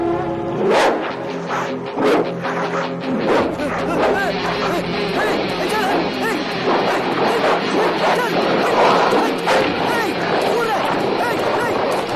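A dog barks and yelps repeatedly in a busy indoor scene, the sharp barks loud and close amid overlapping shouting voices and household commotion.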